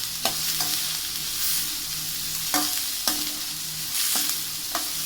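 Sliced onions and split green chillies sautéing in oil in a pan for chicken kuzhambu: a steady, bright sizzle broken by occasional scraping knocks from stirring, with no talking.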